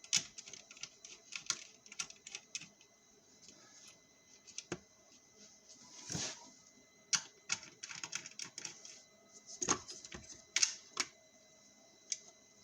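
Quiet, scattered clicks and light metallic ticks of a size 10 nut being worked loose from the plastic trim housing inside an Audi Q7 / SQ7 (4M), close and intermittent with short gaps, no talking.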